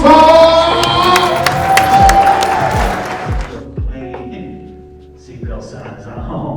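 A comedy club crowd in San Antonio claps and cheers for a comedian being brought on, loud at first and then thinning out, with whoops and the host's voice over it.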